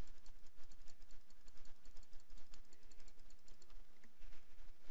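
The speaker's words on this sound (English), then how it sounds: "I'm using my arrow keys to pan around the design. So when the design jumps like that, that's me hitting up, down, left, or right on my keyboard." Arrow keys pressed on a computer keyboard while panning around an embroidery design on screen, a quiet, steady stream of soft key taps over low background noise.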